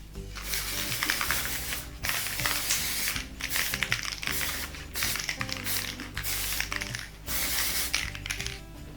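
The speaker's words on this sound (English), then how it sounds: "And now I will use the spray paint a little bit on the white." Gold spray paint sprayed from a can over white acrylic in a fluid art pour, heard as repeated hissing bursts separated by short pauses, close and fairly steady, with no talking.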